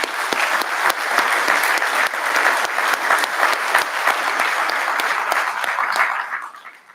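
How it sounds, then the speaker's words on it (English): At a Mississippi fire academy graduation, a crowd gives a round of applause, loud dense clapping holding steady for several seconds before tapering off near the end. "If we could just give him a round of applause."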